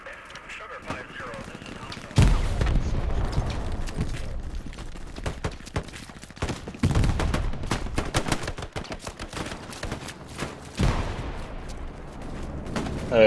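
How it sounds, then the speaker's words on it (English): An enemy bombing run in the WWII shooter Hell Let Loose brings heavy rumbling blasts and rattling gunfire in several loud waves, with voices talking through the din. "Hey, that's their bombing run coming in."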